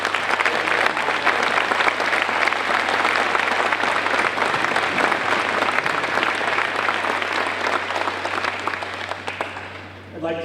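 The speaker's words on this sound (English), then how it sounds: "Let's give them a round of applause" An audience at a Hicksville Schools spring band concert gives the student band a long round of applause. The steady, full clapping lasts about ten seconds before it thins out at the end.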